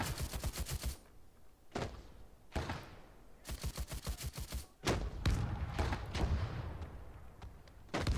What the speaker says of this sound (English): this entire point is being held by this machine gun